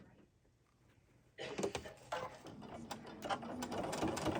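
A sewing machine runs in uneven bursts from about the middle onward, double-stitching back across quilting fabric with a rapid mechanical clatter, close and fairly loud after a quiet start.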